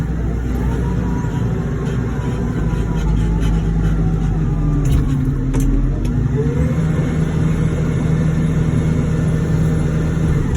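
A Kawasaki wheel loader loading horse manure in a small pit in Jersey, its diesel engine droning loud and steady with rising revs and faint clanks throughout.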